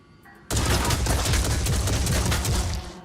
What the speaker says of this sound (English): Because he's only shooting a pistol.